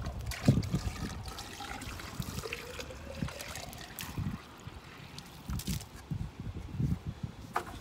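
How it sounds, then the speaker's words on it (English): Ice melt water from maple sap trickles and dribbles into a glass beaker, a soft intermittent pour with small splashes, quiet and close. "we'll pour it into this beaker"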